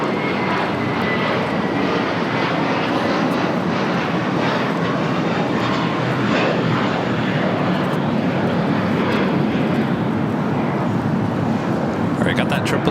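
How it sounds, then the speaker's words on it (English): Jet engines of a Boeing 777 freighter at LAX airport give a continuous loud roar lining up for takeoff on runway 25 right, with broadband rumble under the hiss of wind and outdoor noise. "got that 777 freighter lining up for a south side and takeoff"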